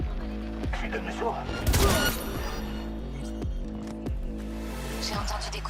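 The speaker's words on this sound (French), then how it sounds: "J'ai entendu des coups de feu." Gunfire crackles in Cyberpunk 2077, a dense burst of shots followed by periodic thuds under a steady droning background and some speech.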